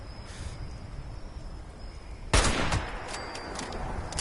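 A marksman's rifle fires in Fallout 76, one loud sharp crack followed by a few fainter echoing shots, over a steady bed of insect-like ambient hiss.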